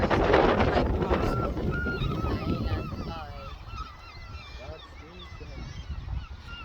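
Goose-like honking calls from a flock of birds near Souter Lighthouse by South Shields on the coast, with several overlapping calls and a denser, busier stretch at the start that thins out later.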